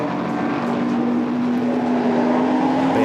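GT4 race cars, including a BMW, run through the Schumacher S at the Nürburgring, giving a loud steady engine drone with a sustained tone, close and continuous.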